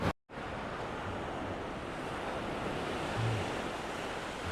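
Ocean surf breaks and rushes steadily onto a beach where someone is fishing for whiting, a broad continuous roar mixed with wind buffeting the microphone, after a brief cut at the start.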